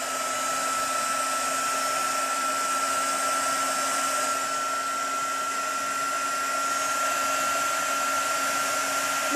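A hair dryer blows steadily to dry paint on a brush-and-stencil art piece, a loud even whir with a constant high whine that runs unbroken for about nine seconds with no talking.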